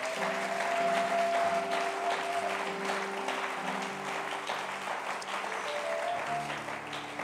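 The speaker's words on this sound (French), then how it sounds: "Est-ce qu'on peut acclamer le Seigneur?" Church congregation applauding, a dense sustained clapping from many hands filling the room, with a held organ or keyboard tone underneath.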